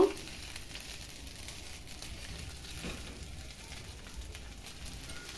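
Fried rice with vegetables stirred in a hot pan gives a steady, quiet sizzle and crackle with soft scraping, continuous and close, with no voices.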